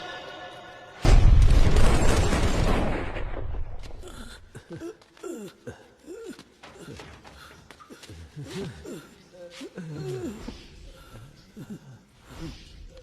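A single loud, sharp blast like a gunshot rings out, followed by a long decaying rumble, then quieter voices talking.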